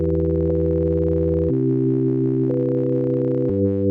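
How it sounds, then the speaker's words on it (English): Pure sine-wave synth tones from Ableton's Meld instrument play a sequence of sustained, clean notes that change pitch every second, loud and steady with no other sounds. "So it's just a sine wave just from dragging and dropping it into the MIDI track here."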